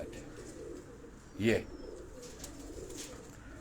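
A breeder pigeon gives a single short coo amid faint background noise while someone talks nearby.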